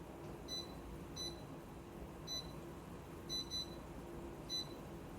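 Kitchen cooking timer beeping in short, faint high-pitched bursts, a few irregularly spaced beeps over steady background hiss.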